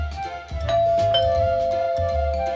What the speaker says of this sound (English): They ring the doorbell